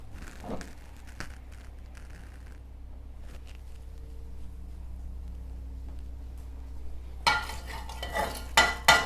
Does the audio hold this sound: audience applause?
no